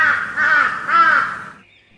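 A crow gives two harsh, drawn-out caws in quick succession, loud and close, the second fading into quiet.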